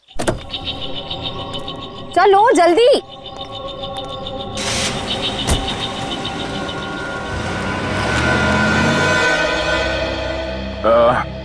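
A car in a street scene, with engine noise building and idling under short spoken commands, plus a brief tonal warbling sound and a sharp click.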